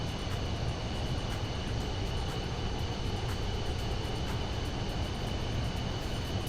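Steady broadband roar of a PC-24 business jet in Microsoft Flight Simulator 2024, a constant engine and airflow drone with a faint high whine, holding level throughout with no voices.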